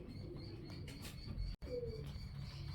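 Soft cooing of pigeons or doves from a neighbouring house, somewhat distant and muffled, with a brief flutter of wings and a short dropout midway.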